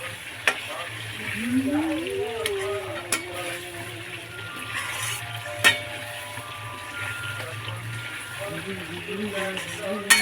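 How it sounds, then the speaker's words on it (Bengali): Potatoes and egg roasting in a pan with turmeric, salt and chili, a steady close frying sizzle with occasional clinks of the stirring spoon, while a voice hums or talks faintly underneath. "এবার আমি কন্টিনিউ নাড়ব।"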